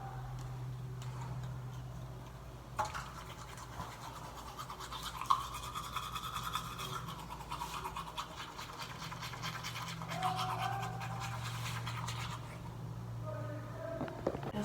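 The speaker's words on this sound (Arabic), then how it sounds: "انا غادي نحك معكم سناتي" Steady, close scrubbing of a toothbrush on teeth during a home morning routine, continuous rhythmic strokes over a faint background hum with no talking.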